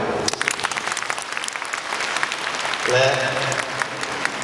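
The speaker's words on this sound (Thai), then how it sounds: "ขอเสียงปรบมือให้ทีมงานสตันทุกท่านนะครับ" An audience applauds steadily at a live magic show, a dense patter of many hands clapping, with a voice speaking briefly over it near the end.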